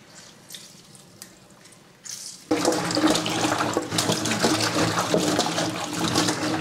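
Tap water gushes while fresh water is drawn for washing food in a home kitchen, starting as a quiet trickle and then jumping into a loud, steady splashing flow close by.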